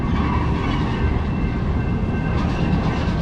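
Train rolling past near the Rouge factory, with a loud, continuous broadband rumble and rattle of rail cars that stays steady throughout, close by and without talk.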